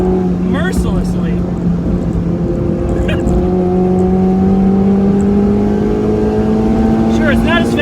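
A Mazda Miata NC driven hard on a race track: the engine drones loudly and close in a steady high-rev pitch that climbs slowly, with brief squeaks and clicks over it and no talk.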